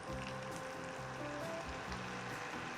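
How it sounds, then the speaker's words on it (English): Green beans cooking in butter in a hot pan give a steady, fairly quiet sizzle and crackle with low hum underneath, continuous throughout with no talking. "You can see it's starting to sizzle."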